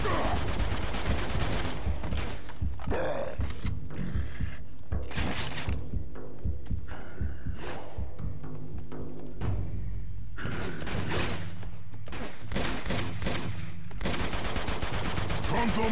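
Gunfire in Uncharted 2: Among Thieves, with rapid automatic bursts and single shots crackling almost nonstop, loud and close, mixed with impacts, mechanical clatter and game voices shouting over the fight.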